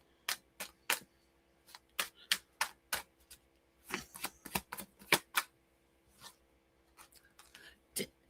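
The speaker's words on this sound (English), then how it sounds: "I just shuffled these cards." Tarot cards being shuffled and handled, a series of sharp papery snaps and riffles in irregular clusters, fairly close and quiet, with no talk.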